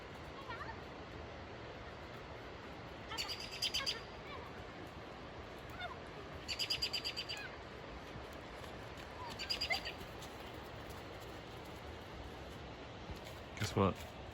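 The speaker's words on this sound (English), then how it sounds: "The birds are chirping" Short bursts of bird chirps repeat every few seconds over a quiet outdoor evening background in spring, with a sharper call near the end.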